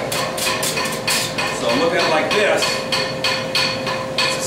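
Steady rhythmic hammer blows ring on hot metal being forged into a tapered scroll, about three per second, loud and close, while a person speaks briefly over the strikes.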